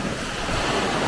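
Sea waves washing onto a beach in Turkey, a constant broadband surf wash mixed with wind buffeting the microphone, filling the short stretch with no voices.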